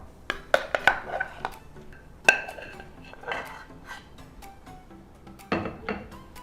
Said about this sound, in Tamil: இதை பாசிப்பருப்பில் சேர்த்து நல்லா கலந்துடணும்.